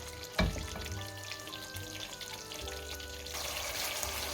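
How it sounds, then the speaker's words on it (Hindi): Green chilies hitting hot oil in a chicken karahi pan, a sharp clatter as they drop in, then a steady close sizzle and crackle that swells louder near the end. "अब हम इसमें 4 से 5 ग्रीन चिलीज डाल देंगे।"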